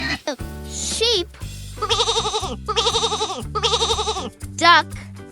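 Sheep bleating three times in wavering, evenly spaced calls over soft background music, with brief spoken words before and after.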